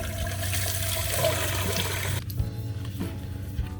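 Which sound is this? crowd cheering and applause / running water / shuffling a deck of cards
running water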